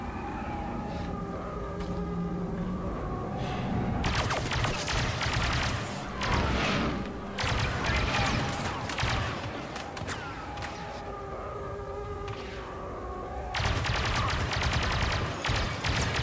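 Gunfire on the Jakku battlefield in Star Wars Battlefront II, heard as bursts of blaster shots and scattered fire over a droning, siren-like tone, with a heavy volley near the end.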